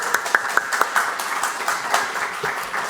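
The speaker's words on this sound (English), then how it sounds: "Just a quick round of applause." A short round of applause from a conference audience for a panel on European public funding policy, moderately loud scattered clapping with a few sharp individual claps early on.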